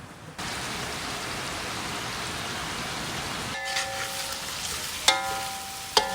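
Pork adobo frying in its own rendered fat after the vinegar has cooked off, a dense, continuous sizzle and crackle with a few sharper pops near the end.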